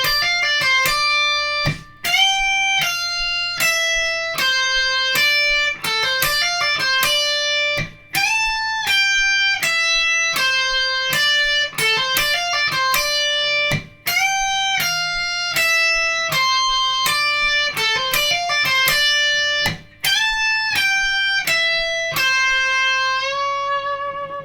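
A riff is played as a clean, bright run of fast repeated notes, broken by brief pauses between phrases, with no voices.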